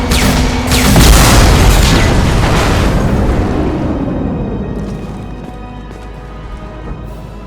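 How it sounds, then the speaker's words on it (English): A concussive shot fired in Mass Effect 2 lands as one heavy, loud boom with a deep rumbling tail that slowly fades over several seconds. "Firing concussive shot!"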